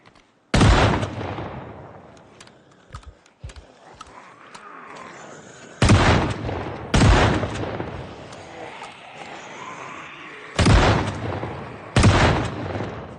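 Loud shotgun blasts in Project Zomboid, five sharp booming shots spaced a second or more apart, each with a short decaying tail, and quieter clatter and scuffling in between.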